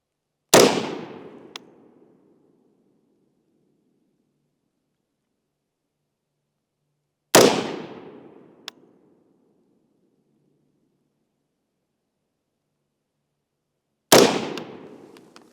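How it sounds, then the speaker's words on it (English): Three sharp, loud rifle shots from a Daniel Defense direct impingement rifle, spaced about seven seconds apart, each with a booming decay into silence and no talking. "Now we're going to go with 3 shots out of the Daniel Defense"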